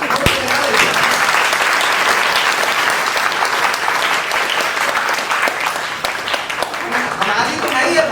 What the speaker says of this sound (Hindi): इतनी कमजोर तालियां नहीं